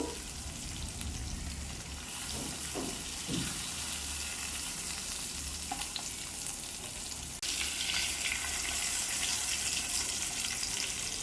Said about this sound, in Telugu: ఇది ఫ్రై చేసి ఒక పక్కన పెట్టేస్తున్నాను